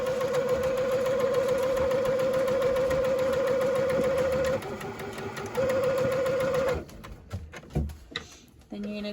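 Sewing machine stitching fabric for a reusable face mask with a filter pocket: a steady, close mechanical whirr runs for several seconds, pauses briefly, resumes, then stops, followed by clicks and handling noises.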